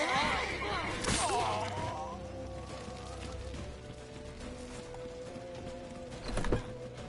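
Horse hooves clip-clop in The Witcher 3, a steady trotting rhythm mixed into busy game sounds, with a louder burst near the end.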